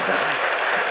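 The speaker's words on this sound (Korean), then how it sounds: "우리가 격려의 박수를 한번 보내겠습니다" A church congregation at a Sunday worship service applauds for a family standing in recognition, a steady wash of many hands clapping at moderate volume, continuous and even throughout.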